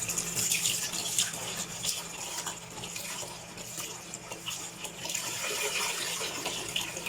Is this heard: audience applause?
no